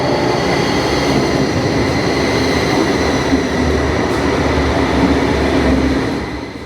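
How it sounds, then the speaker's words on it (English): A Siemens RABe 514 double-decker electric multiple unit train on the Zurich S-Bahn rumbles steadily and loudly nearby with a constant whine of motors and rolling wheels, continuous throughout before easing slightly at the end. "This is the RAB 514, a double-decker electric multiple unit developed by Siemens Transportation Systems."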